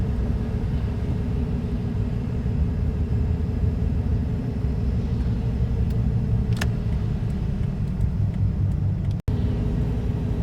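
A car drives along a winter road in Michigan, producing a steady, continuous engine and tire rumble throughout, with a faint brief tick near the end and no voices.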